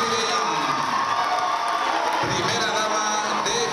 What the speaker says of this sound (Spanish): Un fuerte aplauso para Miss Emibein